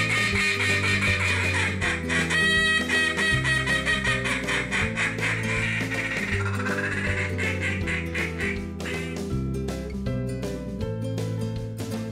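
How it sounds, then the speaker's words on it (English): Champion-style duck calling at a duck festival calling competition in a civic center, a loud, steady run of rapid quacking calls from a handheld duck call, pulsing rhythmically and filling the whole stretch without talk. "You'll hear some of the champion-style calling from the Gaydon Duck Festival."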